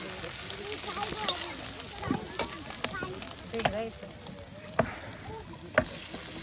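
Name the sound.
eggs and potatoes frying in a pan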